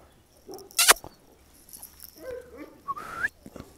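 An Anatolian Shepherd (Akbaş) breeding female makes short whimpers, yelps and a rising whine, close and intermittent, with a sharp burst early on and quieter gaps in between.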